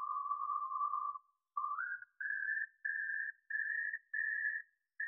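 Isolated resonant tones pulled from distorted guitars, heard as a series of pure whistle-like sustained pitches stepping slightly upward, separated by short silences, quiet and alone.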